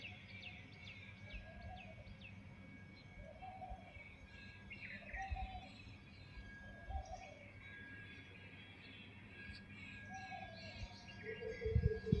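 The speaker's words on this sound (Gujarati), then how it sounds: "અને આમ જો ચકલાનો અવાજ આવે તમે ખાલી સાંભળો" Sparrows chirp faintly in short, repeated bursts in the early morning, spaced a few seconds apart against a quiet, low background hum.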